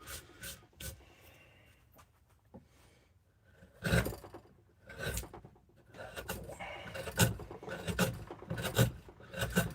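A chisel carves a large willow wood bowl, giving irregular rubbing, scraping strokes of varying strength, some louder bursts among quieter rasping, close by and fairly soft.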